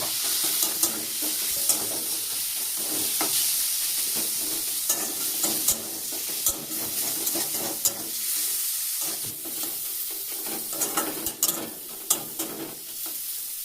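Paneer frying with ground spices in a pan, a close steady sizzle broken by scraping and clattering stirring strokes at irregular intervals, with no voices.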